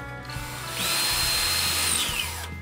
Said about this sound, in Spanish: cogemos el taladro y vamos a marcar la pared siguiendo los agujeros que hemos hecho.